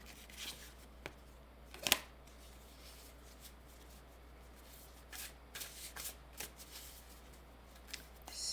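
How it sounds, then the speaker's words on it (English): A deck of oracle cards being shuffled and pulled by hand, soft riffling and sliding with a sharp snap near the start and a cluster of quick flicks later, close and quiet, with no talking. "Pull another oracle card."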